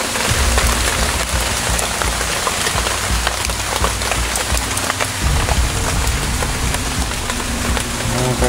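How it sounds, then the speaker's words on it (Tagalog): Heavy rain pours steadily onto surfaces outdoors, a dense, loud, unbroken hiss and patter with low rumbling underneath and no one speaking. "kasi malakas ang ulan tol"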